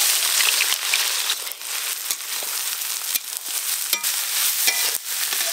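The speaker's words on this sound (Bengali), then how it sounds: "সরষের তেল ফোড়ন দেব তেজপাতা শুকনো লঙ্কা গোটা গরম মশলা পেঁয়াজ কুচি" Whole spices, bay leaf, dried red chilli and chopped onion frying in hot mustard oil, a steady close sizzle with crackling pops and occasional stirring scrapes, no voices.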